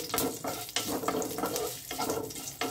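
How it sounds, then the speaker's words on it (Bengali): Whole spices, including cloves, sizzle and crackle in hot oil, with a few soft stirring scrapes breaking the steady frying hiss. "দেখো, ফোড়নটা আমার ভাজা হয়ে গেছে।"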